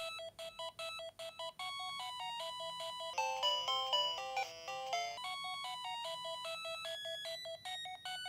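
Bright chiptune melody of square-wave beeps from a Game Boy Color game in a steady bouncing rhythm, briefly swelling into a denser, louder passage midway before returning to the simple tune.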